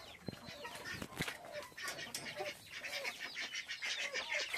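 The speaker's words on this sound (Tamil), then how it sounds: "யாரோ ஒரு கோழி யாரையோ போய் டிஸ்டர்ப் பண்ணுது" Chickens clucking and squawking amid a busy farmyard chorus of other birds, with a few sharp sounds and steady background chatter of fowl throughout.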